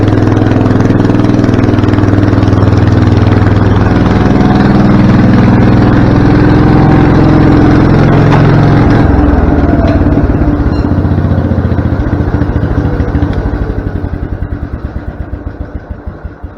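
Small engine of a 110/112 garden lawn tractor with a carburetor problem, idling loud and close with a rough, uneven sputter, then falling into slower, irregular pulses as it fades toward the end.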